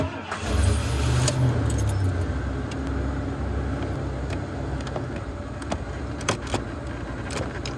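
An RV engine cranks and starts, then idles steadily up close, with light metallic jangling and clatter over the running engine.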